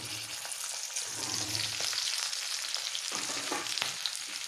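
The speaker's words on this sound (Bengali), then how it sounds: "এরপর এই ফোড়নে দিয়ে দেবো সমস্ত শুকনো কুলগুলো" Dried jujubes (kul) sizzle in hot oil tempered with fennel seeds, a steady broadband frying hiss with brief stirring scrapes near the end, close and moderately loud with no talking.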